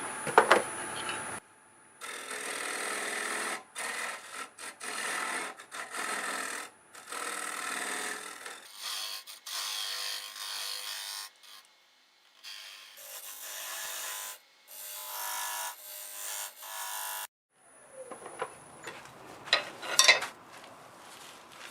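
Catalpa wood spins on a lathe as a bowl blank is squared up and a dovetail tenon is cut, giving bursts of scraping, rasping tool contact broken by several short silent gaps.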